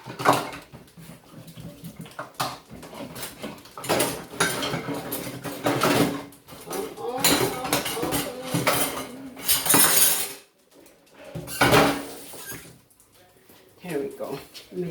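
A tablespoon and other cutlery clatter and clink against dishes and pots in a home kitchen while soup is being made, busy close-up handling noise with a brief pause, under intermittent talking.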